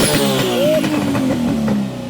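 A 1500HP Nissan R32 GTR with an RB28 engine and sequential gearbox revs hard and drops pitch sharply on a gear change, with a harsh pop as it shifts, loud and close throughout.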